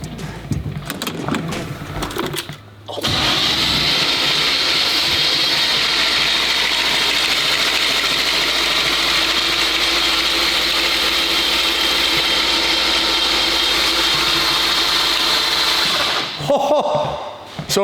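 A Lamborghini engine cranking over on the starter: a loud, even mechanical whir and clatter sustained for about thirteen seconds, with brief talk before it starts and after it stops.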